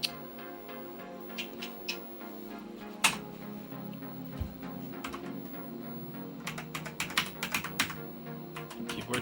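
Typing on a vintage Tandy 1000 SX computer keyboard: irregular clacking keystrokes, sparse at first then a quick burst of taps, close and clear over a low hum.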